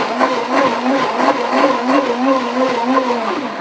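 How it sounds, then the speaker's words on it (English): Blender whirring loudly up close as it purees a mushroom sauce base, a continuous high motor whine with a slightly wavering, pulsing pitch. "And now this is going to be pureed."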